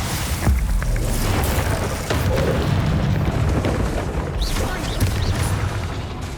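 A Confringo blasting spell explodes in Hogwarts Legacy combat with a heavy booming blast that rolls into a continuous loud rumble, layered with crackling debris and smaller pops.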